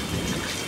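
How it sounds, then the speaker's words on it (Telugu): Heavy rain pours down steadily in a brief stretch, with a broad, hissing wash of rain and a low rumble beneath it, and nobody speaks. "వామ్మో వర్షం అయితే మామూలుగా లేదు"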